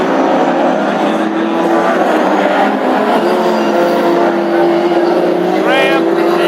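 Hot rod race cars thundering past on the oval at Ipswich, a loud continuous engine roar from the pack of drivers filling the clip, with a rising whine near the end.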